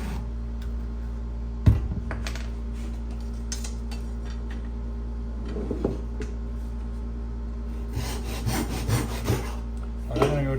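Plywood being sawn off to size: rasping back-and-forth saw strokes, close and moderately loud, grow more frequent toward the end over a steady low workshop hum.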